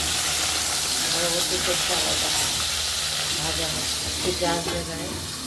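A fish head fries in hot oil for muri ghonto, giving a steady loud sizzle and hiss with bubbling crackle and occasional stirring scrapes. A voice talks faintly underneath.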